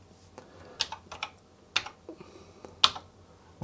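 Keys are typed on an Atari computer keyboard running Atari Pilot from 1980, heard as a few sparse, close clicky keystrokes with pauses between them.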